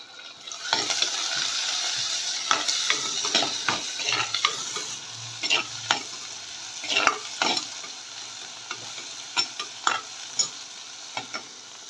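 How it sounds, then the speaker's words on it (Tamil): Onions sauté and sizzle in a pan while a spoon scrapes and stirs them in repeated clattering strokes, close by under a constant frying hiss, while cooking valapoo fish curry. "வெங்காயம் நல்லா வதங்கணும்."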